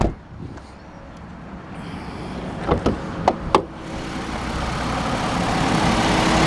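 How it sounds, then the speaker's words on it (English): A Ford Taurus 3-liter V6 engine idles steadily nearby under the open hood, a low continuous rumble, with a few brief clicks and taps partway through. "You can see it's got the 3-liter V6 sitting here running."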